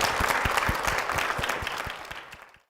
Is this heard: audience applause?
yes